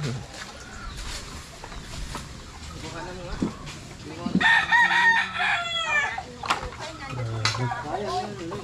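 A rooster crows loudly nearby amid hens clucking, with people talking and background clatter throughout, at a house construction site.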